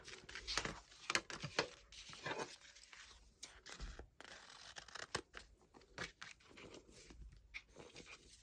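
Scissors trim a paper card down to a 7x5 size for a handmade card, producing a quiet, close series of irregular snips and crisp paper crunches with brief pauses between cuts.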